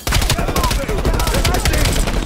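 Dense, rapid gunfire from Call of Duty: Black Ops Cold War, loud and close, with overlapping automatic bursts and shots rattling continuously through the whole moment.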